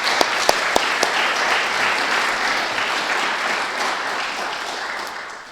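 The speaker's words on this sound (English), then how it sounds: "Give them a round of applause." Applause from an audience at an armory groundbreaking ceremony honoring service members and veterans, a dense sustained clapping roar lasting several seconds with a few sharp individual claps near the start.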